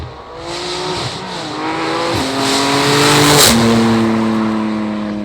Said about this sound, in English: We're gonna get a flyby of him going, you know, obviously flying by me for you guys